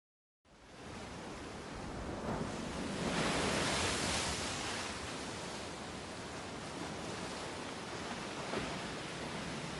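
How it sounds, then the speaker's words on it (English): Ocean waves on a gray sea in light rain wash in a continuous, moderately loud roar, swelling once and then settling into an even surf hiss with no voices. "The sound of waves soaked into my ears."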